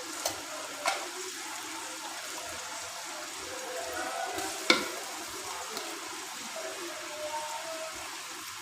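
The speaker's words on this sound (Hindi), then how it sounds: "एक दो मिनट के लिए इसको भून लेंगे" Ginger garlic paste fries in a pan with a steady sizzle, a soft continuous crackle with a few sharper clicks and stirring scrapes, fairly close, with no talk.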